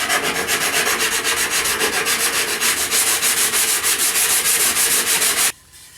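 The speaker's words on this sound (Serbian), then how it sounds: "kad ovo radim na samoj šmirgli, teško mi je da baš ispratim da to bude savršen radijus" Sandpaper is rubbed by hand along the edges of a wooden board in quick regular back-and-forth strokes, loud and close for several seconds before stopping abruptly.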